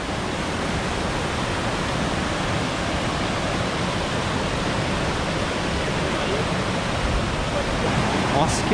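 Twin waterfalls on the Mãe Catira river near Morretes, Paraná, pour as a dense, constant roar of falling water, loud and close, unchanging for the whole stretch with no voices over it.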